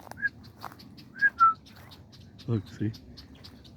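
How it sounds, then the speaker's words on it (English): Wild birds call out in the open, a few short whistled chirps scattered over several seconds with two lower squawks near the end, while someone speaks briefly nearby. "As we are watching these birds way out there."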